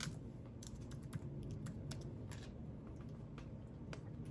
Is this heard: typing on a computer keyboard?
yes